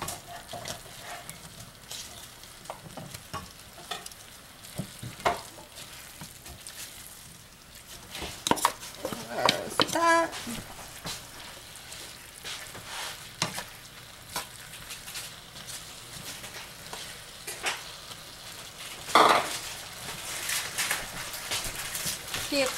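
Shredded yellow squash and zucchini mixed in a pan for zucchini noodles, giving soft scraping and stirring clatter with occasional sharper utensil knocks, fairly close, under a constant low background hiss.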